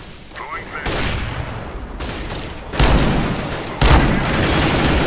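Flashbang and gunfire in a first-person shooter video game: sharp bursts and booms arrive in abrupt loud bursts, with rattling fire filling the spaces between them.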